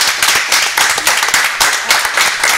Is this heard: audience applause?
yes